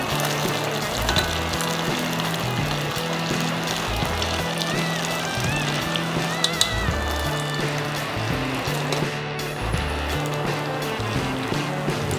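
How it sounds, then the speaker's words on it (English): Malpua batter frying in hot ghee, a dense, continuous sizzle that stays loud and close throughout, with faint background music underneath. "Malpuas taste much better when fried with ghee."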